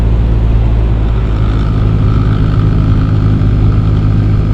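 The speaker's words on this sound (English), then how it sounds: "The blower motor's a little noisy" Steady low whir of the blower motor inside a Lexus GS300 cabin, a constant broadband hum with faint tonal drone, loud and close, running without pause and with no talking.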